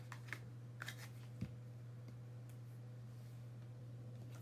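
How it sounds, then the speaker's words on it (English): Tarot cards being shuffled by hand: faint, soft riffling and a few light taps over a steady low electrical hum, with no voices. "I'm shuffling."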